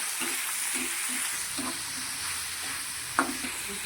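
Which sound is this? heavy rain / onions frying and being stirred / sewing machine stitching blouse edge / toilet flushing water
onions frying and being stirred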